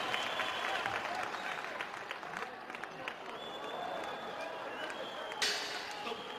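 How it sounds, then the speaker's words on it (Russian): Crowd applause and cheering at an MMA fight between Yana Kunitskaya and Andreea Rotaru, a steady broad roar of clapping and noise filling the arena throughout. "Аплодисменты!"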